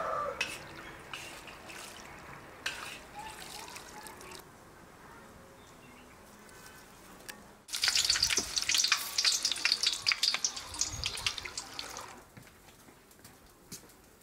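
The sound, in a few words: pork fat cracklings frying in lard, scooped out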